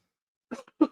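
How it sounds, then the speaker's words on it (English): A single short cough, close and fairly quiet, in two quick bursts with silence before it. "Excuse me. Cough."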